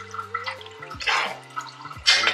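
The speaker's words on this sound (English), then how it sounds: "Let me turn off the water." Water from a kitchen tap runs in short hissing gushes during pasta cooking at home, two louder surges over a steady low hum and faint tonal background.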